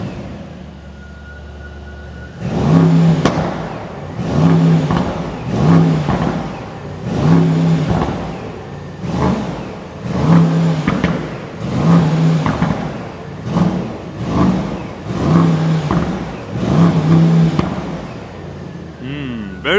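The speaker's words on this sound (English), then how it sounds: "we have the Brabus exhaust mounted, so it's way louder than the stock one" A 2024 Mercedes S930 Brabus with a 930 hp bi-turbo V8 and Brabus aftermarket exhaust, heard from outside the car, revving repeatedly in a steady series of loud, deep surges that rise and fall over about fifteen seconds.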